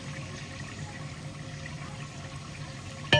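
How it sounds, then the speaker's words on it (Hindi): Water is poured in a steady, continuous stream into a large pot of browned meat cooking for a village iftar meal, with no talk over it. "हम अब इसमें पानी ऐड करेंगे।"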